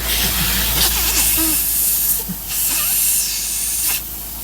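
Compressed air hissing steadily from a giant crack in the front air tank of a 4104 bus air brake system, a loud continuous spray-like rush with brief dips, close by.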